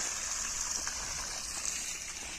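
Water poured steadily to float a small boat, a continuous hissing gush with light splashing, close and fairly quiet, running without a break.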